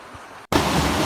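A clear, beautiful river flows outdoors in a natural landscape, heard as a loud, steady rush of water that cuts in abruptly after a brief gap, with no talking.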